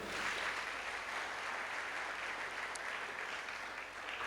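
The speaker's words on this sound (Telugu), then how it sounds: "చప్పట్లు కొట్టుకోండి" Applause from a crowd at a church consecration ceremony in Denduluru village, a faint, even patter of clapping that carries on steadily throughout with no voices on top.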